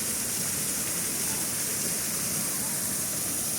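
A park waterfall roars steadily nearby, a dense, unbroken rush of falling water that holds even in level throughout.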